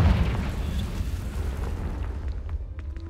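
A Confringo spell goes off in Hogwarts Legacy, a heavy boom at the start that rolls into a long, fading rumble of debris and ambience, fairly close and loud, with no talking over it.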